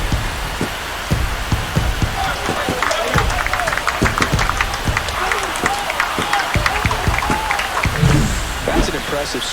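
A stadium crowd in a baseball video game roars in a steady, dense wash of cheering and applause under a commentator's voice after a home run.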